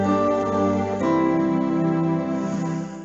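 Yamaha S80 keyboard synthesiser voice layering piano and string elements plays a sustained chord, restruck about a second in and held, then fading slightly toward the end, with no talking.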